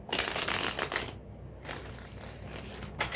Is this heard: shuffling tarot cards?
yes